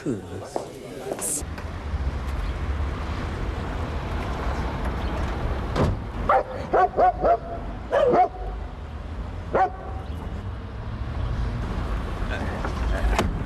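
A dog barks several times in a short burst near the middle, loud and close, over a steady low rumble of background noise and talk in a 1988 Coronation Street scene.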